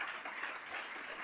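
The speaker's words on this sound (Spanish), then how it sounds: "Un fuerte aplauso" Audience applause welcoming a speaker at a European symposium on aporophobia, a dense, steady wash of many hands clapping at even loudness throughout the short stretch, with no voices over it.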